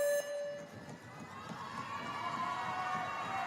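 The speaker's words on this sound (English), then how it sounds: "You can hear the audience cheer." A crowd cheers and roars steadily through the whole stretch at a world jump rope championship, building slightly toward the end, with no clear speech on top.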